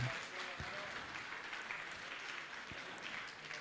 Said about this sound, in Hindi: जोरदार तालियों के साथ हम अभिनंदन करते हैं।